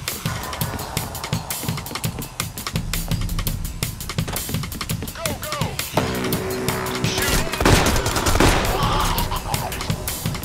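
Dense gunfire from the heist video game Payday The Heist, rapid automatic bursts and overlapping shots crackling continuously, loud and close, with game voices and other effects mixed in.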